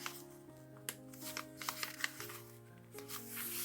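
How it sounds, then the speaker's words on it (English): Sheet of paper being folded and creased by hand, giving a run of crisp crackles and rustles with a few sharper snaps, close and fairly quiet with no talking. "fold this piece of paper and try it, and we'll see how that turns out."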